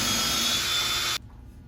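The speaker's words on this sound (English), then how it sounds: "now you can just go ahead and drill all the holes you'll need." A power drill bores holes in cedar picnic table boards, a loud steady whirring grind that stops abruptly, leaving a quiet room.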